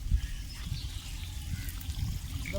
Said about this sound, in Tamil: ஒரு ஒரு செடிக்கும் தண்ணி போயிட்டுருக்கு